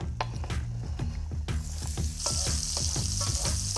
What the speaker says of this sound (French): on va faire suer les oignons dans l'huile d'olive